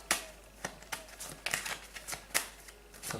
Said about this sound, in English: But I'll just shuffle the cards.